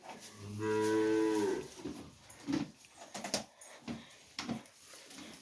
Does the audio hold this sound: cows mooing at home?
yes